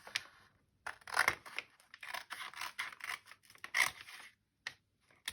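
Scissors cut through a paper bag being made into a journal cover, giving close, crisp snips and crinkles in irregular bursts with short pauses between them.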